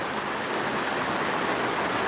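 Heavy rain pours down at night in the Phulpur area, a dense, steady rushing hiss that stays loud and unbroken throughout.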